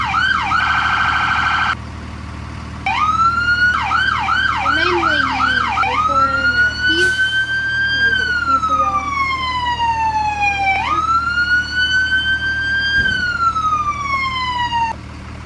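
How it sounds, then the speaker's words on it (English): A fire engine siren being tested at the station: a rapid electronic yelp and warble, then long rising and falling wails with a short air-horn-like blast, loud and close over a steady idling engine rumble. "We'll get a siren check for y'all guys."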